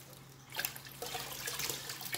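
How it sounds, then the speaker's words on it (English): Aquarium tank water scooped with a fish during tang transfer, a soft, close sloshing and trickling that starts abruptly after a quiet moment. "Get a little bit of the tank water, scoop up the fish."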